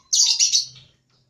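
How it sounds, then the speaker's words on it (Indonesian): A white-rumped shama gives a short, bright burst of sweet whistled notes, close and clear, then falls silent. "Nah, ini murai batu."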